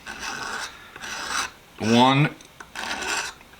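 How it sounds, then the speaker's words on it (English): Razor blade scraping along a wooden hammer handle during restoration, three rhythmic rasping strokes close up, with a brief spoken word between them. "why I scrape the handle with a razor blade"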